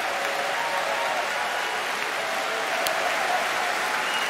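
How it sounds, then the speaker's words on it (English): Judo world championship crowd applauding steadily from their feet in a large arena, a dense continuous wash of clapping with no talk over it. "A lot of people are standing up and applauding."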